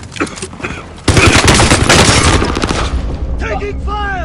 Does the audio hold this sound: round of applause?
no